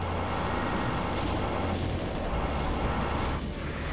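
Cyberdemon firing rockets in Doom, on 10x10 Project MAP03, played on Ultra-Violence: dense loud booming explosions and roaring blasts that merge into a continuous heavy rumble.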